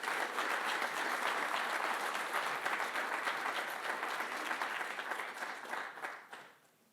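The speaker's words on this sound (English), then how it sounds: "Let's give a great round of applause to Scott Abbott." Sustained audience applause at a university executive lecture, a dense even wash of clapping that holds steady then tapers off and fades out near the end.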